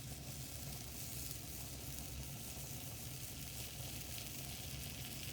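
A sand and salt mixture heating on a lab burner, giving a continuous faint sizzling hiss and soft bubbling, steady and even throughout with no talking.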